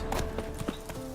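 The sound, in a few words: horse Roach's hooves from video game The Witcher 3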